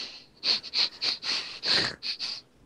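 A voice imitates a creature sniffing, a rapid series of about eight sharp, breathy snuffs close to the mic, each a short hissing burst.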